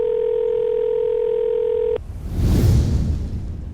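A steady telephone tone hums for about two seconds, then cuts off abruptly and gives way to a rush of muffled noise.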